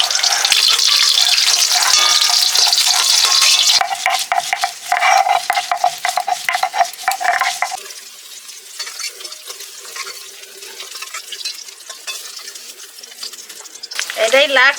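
Potatoes frying in a pan while cooking a vegetarian masala paneer dish, a steady sizzle and hiss with clattering stirring sounds, loud near the start and fading later, with a brief harsher burst near the end.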